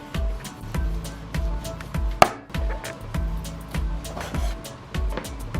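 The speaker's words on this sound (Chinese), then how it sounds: "下面开始切肉丝，200克的通脊肉切成细丝" A knife chops 200 g of pork loin into thin shreds on a board for Yuxiang shredded pork, sounding as steady, evenly spaced close thuds with a few sharper knocks and no talk.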